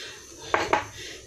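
A metal cooking pot clanks twice in quick succession in a home kitchen, two sharp close knocks over quiet room tone.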